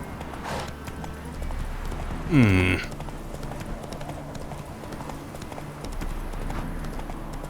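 Roach the horse galloping in Witcher 3, with steady close clip-clop hooves running throughout and a brief rising whinny partway through, over faint background.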